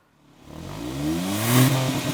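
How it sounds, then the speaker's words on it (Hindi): An SUV engine revs up from quiet, its exhaust note rising in pitch and growing louder before holding at a strong, throaty roar. "अब ड्राइव पे जाने से पहले मैं आपको सुनाना चाहता हूँ इस गाड़ी का एग्जॉस्ट नोट"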